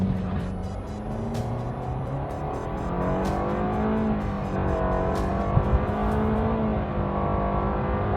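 A 2025 Mitsubishi Outlander with a CVT accelerates from a launch, its engine droning in a steady, gradually rising tone heard from inside the cabin, moderately loud with road and wind noise.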